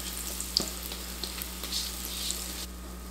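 Cornbread batter sizzles in a hot pan, a soft, steady crackling hiss with a few faint pops and clicks, heard close and alone at low volume.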